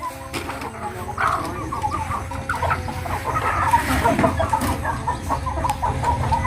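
A flock of native chickens at a market clucks and squawks busily nearby, overlapping calls continuing throughout with faint background noise.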